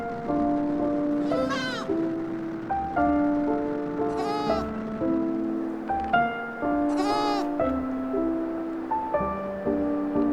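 A young goat kid at a market in Muscat, Oman, bleats three times in loud, wavering cries, spaced a few seconds apart over a steady background of music-like tones.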